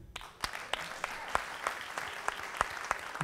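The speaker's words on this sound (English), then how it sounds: "I'm so glad you're clapping." Concert audience applauding for an American roots recording artist, a steady wash of clapping with sharper individual claps standing out, moderately close and continuous with no talking.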